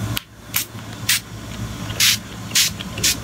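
Short, sharp hisses of a makeup setting spray bottle misting, about six quick bursts spaced irregularly, loud and close, over a low background hum.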